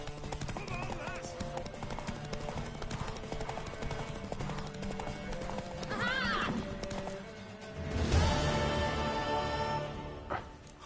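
In The Witcher 3: Wild Hunt, hooves clatter in quick rhythm while a horse whinnies, with a louder burst of neighing near the end; voices speak over parts of it.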